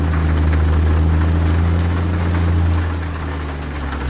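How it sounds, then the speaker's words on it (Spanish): Heavy rain drumming on a big-rig truck cab in American Truck Simulator, driving an International 9900i through New Mexico, a loud continuous hiss over a steady low engine drone, with no talking. "Está lloviendo bastante fuerte"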